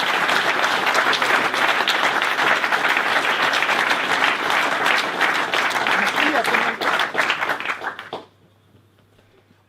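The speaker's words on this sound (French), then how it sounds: "applaudissons nos mentors" Audience applauding mentors at the final pitches of a startup weekend in Brest, a dense, loud burst of clapping that stays steady for about eight seconds and then stops abruptly, leaving quiet room tone.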